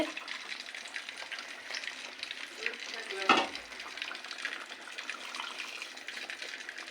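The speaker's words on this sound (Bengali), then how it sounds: "এখানে আমি রূপচাঁদা মাছ উল্টা পাল্টা করে ভাজছি সুন্দরভাবে" Pomfret fish frying in a pan as it is turned over, a close, steady crackling sizzle with a brief louder clatter midway, no voices over it.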